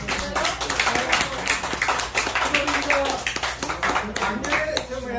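Guests at a chairman's birthday celebration give a round of applause, with scattered, fairly quiet clapping going on throughout while people keep talking over it.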